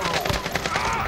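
Gunfire in Call of Duty: Warzone on Rebirth Island: a brief, dense rattle of rapid automatic shots, loud and continuous.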